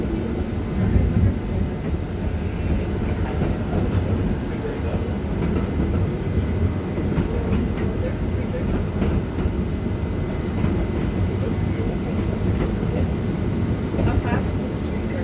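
Steady rumble of a TTC CLRV streetcar, number 4039, rolling along rails at the Halton County Radial Railway, heard from onboard with continuous low wheel and track noise and faint occasional clicks throughout.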